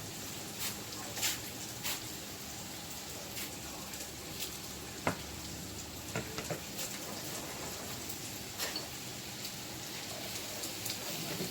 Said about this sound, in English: get started on my ground beef. Just going to simmer it in that same frying pan